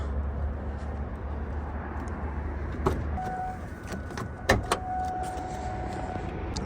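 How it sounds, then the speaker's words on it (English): The hood of a Ford Mustang Mach 1 with the 4.6-liter four-valve engine is popped, a sharp mechanical clunk and release click heard up close after an idling hum cuts off, with a faint tone lingering. "Go ahead and pop the hood for you so you can see here."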